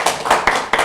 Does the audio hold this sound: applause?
yes